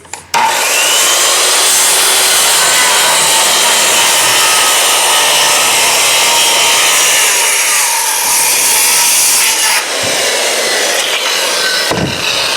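A circular saw rips along a straight guide line through a wooden board, its loud steady whine holding for about ten seconds after a brief spin-up, with a short stop and restart near the end and no talking.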